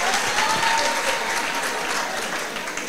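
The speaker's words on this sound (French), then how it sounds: "Merci d'applaudir Gianni Irengue," A large audience at a Miss Level Up 2023 beauty pageant bursts into dense, steady applause that fills the room, loud and sustained throughout, easing only slightly toward the end.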